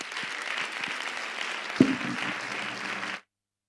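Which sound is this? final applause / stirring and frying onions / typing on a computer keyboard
final applause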